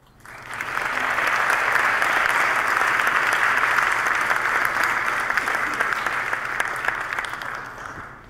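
A theatre-tech talk audience breaks into applause, clapping swelling quickly from quiet to a full, dense roar and holding steady for several seconds before tapering slightly at the end.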